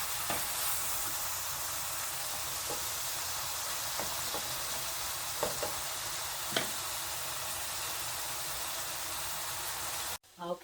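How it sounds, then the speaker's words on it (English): Chorizo frying in an oiled skillet, rendering its grease. A steady, dense sizzle runs throughout with a few brief stirring clicks, then cuts off abruptly near the end. "Okay, I have the chorizo cooking."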